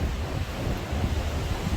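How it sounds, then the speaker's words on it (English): Strong night wind gusts around Okehampton Castle, a steady low roar and buffeting rumble across the microphone that holds throughout without a break. "It's very windy tonight though."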